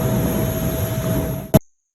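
An airplane flies over at the Oshkosh 2023 air show, a loud broad engine roar that holds steady and then cuts off abruptly.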